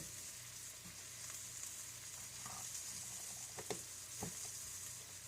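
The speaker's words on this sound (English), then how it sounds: "Press them down a little bit, let them cook" Brussels sprouts cook in a skillet under a bacon press, giving a soft, steady sizzle with a few faint clicks and scrapes, quiet and close.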